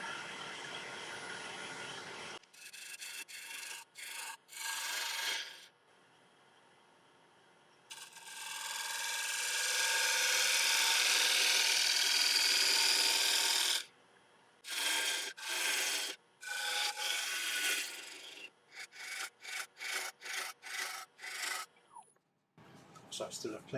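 Wood lathe at about 1000 RPM turning an Irish walnut platter: a steady scraping rasp of the tool cutting the spinning wood, broken into repeated short bursts and pauses, fairly close and loud.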